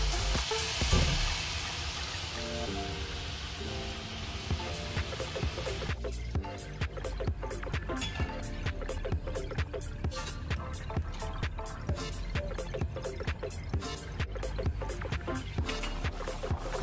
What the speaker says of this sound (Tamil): பாருங்க நல்லா கொதிக்குது